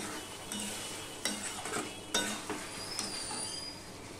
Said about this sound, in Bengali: এটা আমি আরেকটু কষিয়ে নেব, কেননা মাংসটা সিদ্ধ হতে হবে।